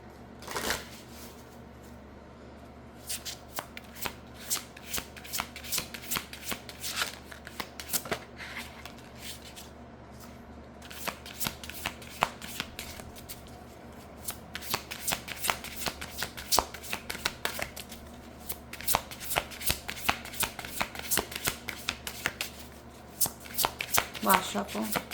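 Oracle cards riffle and shuffle repeatedly in bursts of crisp flapping clicks, close by, with brief pauses between rounds and occasional soft talking.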